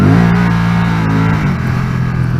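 A Can-Am Spyder accelerates hard on a wet road in the rain, its engine roaring loud and close with a rising, revving note that holds steady throughout.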